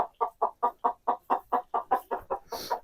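A hen flock being herded by a working-breed dog named Maverick gives a run of about a dozen evenly spaced, loud clucks. The clucks come close together in a steady rhythm, with a brief higher squawk near the end.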